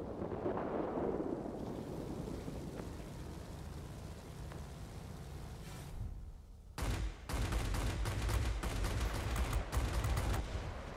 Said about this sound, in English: These guns operate more like a shotgun, if anything.